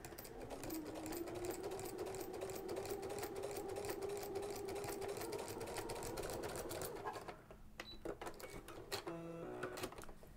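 A sewing machine fitted with a walking foot stitches faux leather, running in a steady, close mechanical whir for several seconds, then slowing into a few separate clicks and stitches.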